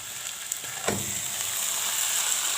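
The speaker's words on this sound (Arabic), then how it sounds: "لما ريحه الثوم تطلع ننزل بالصلصه" Tomato sauce goes into a hot pan of garlic, setting off a bright, steady sizzle with a couple of soft splashy thuds as it lands, the frying hiss swelling and holding close.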